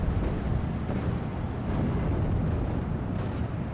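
Mortar fire and explosions in the video game Steel Division: Normandy 44, during a 3v3 battle on Omaha, as a continuous dense rumble of booms and blasts with no clear gaps.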